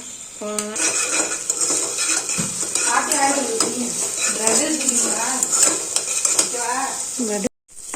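Onion with ginger-garlic paste sautéing in a pan for a morning lunch-box dish, a steady sizzle under repeated stirring and clinks of a spoon against the pan, with a voice talking over it throughout before a brief cutoff near the end.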